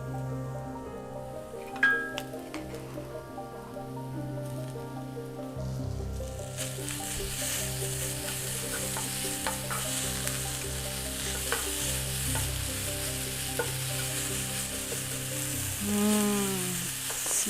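Ginger garlic paste sizzles in a hot pan with ground beef while a spoon stirs and scrapes through it, a steady close-up frying crackle with no talking.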